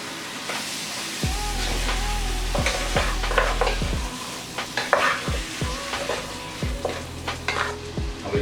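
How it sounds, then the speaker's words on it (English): Beef pieces sizzle and fry with roasted curry powder in a pan for a breadfruit curry, with a steady hiss under repeated scraping stirs and clinks of a spoon against the pot, close up and without talk. "Now we will add the beef to this."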